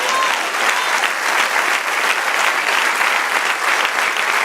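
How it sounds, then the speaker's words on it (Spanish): A church congregation applauds during a Spanish-language worship service, a dense, steady wash of clapping from many people that holds at an even, loud level throughout. "Denle un aplauso al Señor."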